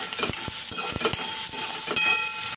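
Asafoetida fries in hot oil for a cauliflower potato bhaji, a bright constant sizzle close up with sharp stirring clicks and scrapes against the pan.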